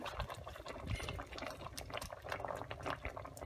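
Water with leaves simmering in a covered pot for natural dye, a steady close bubbling and seething hiss with soft pops and lid rattles throughout, no voices.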